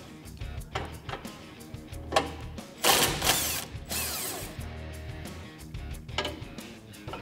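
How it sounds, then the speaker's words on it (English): A ratchet backs out 12 millimeter bolts on a Toyota Tundra rear bumper: rapid close clicking pawl bursts with a louder rattling stretch midway, repeated in short runs. "now we're gonna remove these bolts up here"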